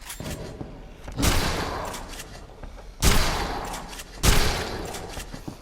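Three loud, booming blasts from the Pride shotgun in Dead Island: Riptide, spaced a second or two apart, each with a long decaying roar over a low background.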